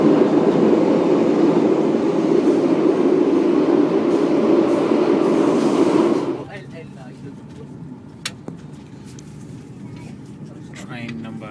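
A local commuter train in Paris, heard as a loud, steady rumble and hum that fades sharply partway through, leaving a quieter station ambience with occasional clicks.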